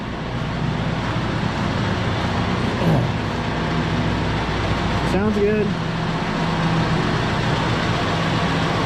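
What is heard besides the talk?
John Deere 6115D tractor engine idling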